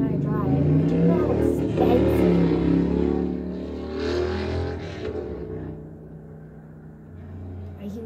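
Road traffic passes nearby, a loud vehicle rush swelling and then fading into a lower rumble, with a person talking close over it.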